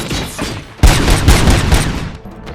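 Gunfire in the video game RoboCop: Rogue City, loud and close: sustained bursts of shots with heavy booming impacts, a quieter stretch first, then a dense fusillade that tapers off near the end.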